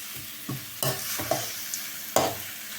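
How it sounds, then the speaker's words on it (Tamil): Cooked rice is stirred into a sizzling pan for Tamil mango rice, with four or five distinct scraping strokes of a spoon against the pan over a soft frying hiss, close and clear with no talking. "சாதத்தை போட்டு கிண்டிக்கலாம்."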